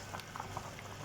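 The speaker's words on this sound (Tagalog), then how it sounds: "Yan, kumukulo na siya." Sinigang broth with red lapu-lapu simmering to a boil in a pot, a soft continuous bubbling and faint popping close by, with no voices.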